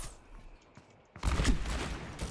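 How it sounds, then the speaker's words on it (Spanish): Gunfire in the video game Overwatch, a sudden burst of rapid shots erupting after a quiet lead-in and continuing as a loud, crackling volley to the end. "Acá me salen los disparos extraños"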